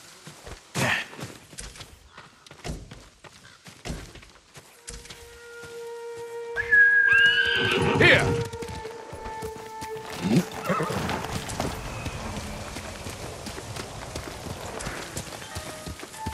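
Hooves clip-clop nearby, then a horse in the video game Ghost of Tsushima lets out a loud whinny, followed by more hoofbeats and rustling movement.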